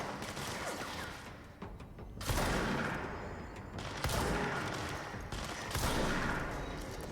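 Shotgun blasts in the action video game Control, heavy booming shots landing a few seconds apart over a dense, roaring layer of combat noise.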